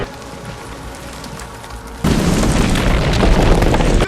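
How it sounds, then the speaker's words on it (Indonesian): Missile explosions and the collapse of the giant Hometree in the Avatar film: a quiet stretch breaks into a sudden loud boom, followed by a dense, sustained crashing rumble that fills the rest of the moment. "Sementara kolonel dan prajurit yang lainnya terus menembakkan misil,"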